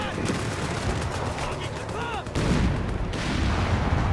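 Dense battlefield gunfire in Company of Heroes 3, set in North Africa, rapid overlapping shots and bursts with a heavy boom-laden surge partway through, loud and continuous, with a voice briefly heard amid the fire.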